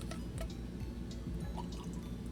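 Water being drawn or poured in a video game, with dripping, splashing liquid over a low rumbling background, close and steady for a couple of seconds with no talk.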